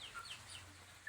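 Gamecocks, fighting roosters kept for breeding, cluck faintly and intermittently at close range in a quiet farm setting, with a brief louder bump at the very end.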